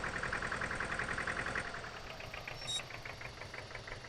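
A tractor engine in Farming Simulator 19 idles with a steady, rhythmic chugging knock, faint and even throughout, dipping slightly midway with a brief high tone.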